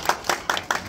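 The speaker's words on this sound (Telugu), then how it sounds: "చప్పట్లు కొట్టాలి" Four distinct, evenly spaced claps ring out crisply at a Louis Braille birthday celebration, each a sharp, separate hit with short gaps between.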